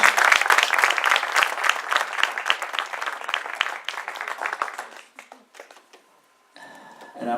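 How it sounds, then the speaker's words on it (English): A round of applause at a signing gathering, dense clapping from a room full of people that thins to a few scattered claps and fades out, then a faint background murmur. "Well, one more round of applause."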